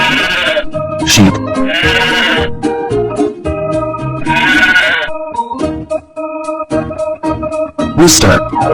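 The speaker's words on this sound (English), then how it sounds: "Sheep." A cartoon sheep gives several loud, wavering bleats spaced across a lively music bed, with short musical stabs filling the gaps between calls.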